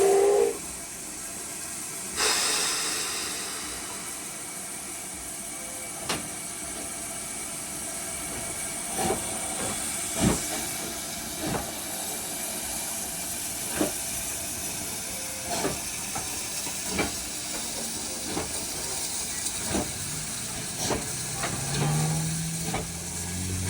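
Steady steam hiss from an S160 steam locomotive on a rainy day, with rail-car clanks and knocks scattered throughout, a continuous broad wash of noise with sharp metallic hits.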